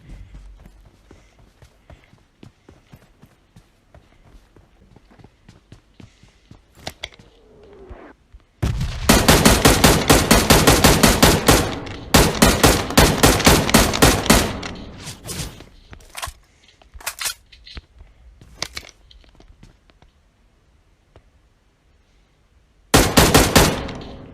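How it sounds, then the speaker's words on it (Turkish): Rapid bursts of automatic Uzi and UMP submachine gun fire from a video game, loud and clustered in several volleys with pauses between, ending in one more sharp burst. "arkada bir Uzi UMP bir silah sesi duydum orada"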